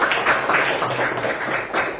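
Children in a classroom clap for a classmate who answered correctly, a steady patter of many small hands close by, lasting a couple of seconds with no talk over it.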